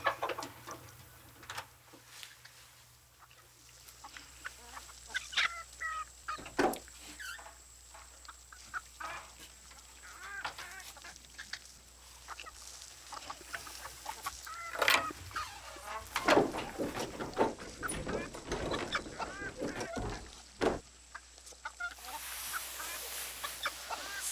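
Hens cluck and murmur in a coop, their soft, scattered calls running steadily at a moderate distance. People speak now and then over the birds.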